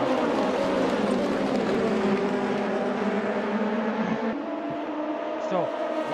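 Race cars lap the circuit in the Fuji 5-hour race, with a continuous loud, layered engine drone and changing engine tones as cars pass, under a commentator talking.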